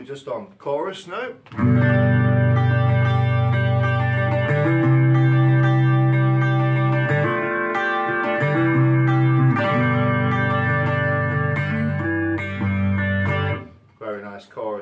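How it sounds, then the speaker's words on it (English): Electric guitar chords through a Fender Champion 40 amp shimmer with a warbling chorus effect, held and changed several times, bracketed by brief talking at the start and end. "Very nice chorus indeed."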